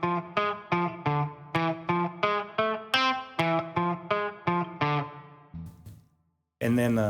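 Recorded clean electric guitar track for a cover played back, a steady run of about a dozen evenly spaced picked notes, bright and close, then a pause and a new chord.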